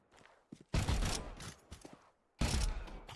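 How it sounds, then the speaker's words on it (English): Short bursts of gunfire in a video game, two loud dense volleys of rapid shots with quieter clicks and mechanical handling sounds between them. "that's 3 bullets shot as 1"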